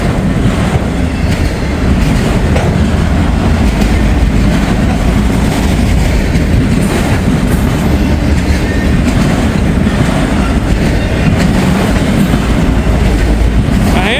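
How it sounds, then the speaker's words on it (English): A CSX freight train rolls past at close range, a loud steady roar of heavy rail cars with rhythmic clickety-clack of wheels on track and faint wheel squeal, continuous and unbroken throughout with no talk. "CSX locomotive. CSX locomotive."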